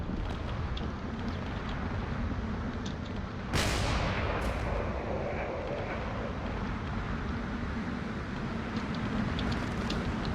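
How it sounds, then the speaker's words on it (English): Railgun fire in a video game space battle between drones and fighters: one sharp, loud blast cuts through a constant roaring wash of broadband noise that carries on steadily before and after it. "There's a lot of railgun fire being shot back and forth here."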